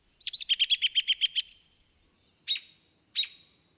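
An American robin gives a quick run of chirpy notes, then two sharp, separate peep calls, clear with no other sounds.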